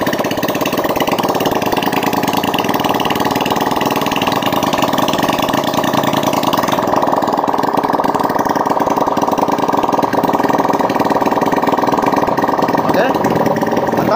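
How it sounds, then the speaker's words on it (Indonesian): A Honda Beat ESP scooter engine, under repair after running on fake oil, idles loud and close with a steady buzzing drone for the whole stretch. "Nah, ini motornya sudah hidup."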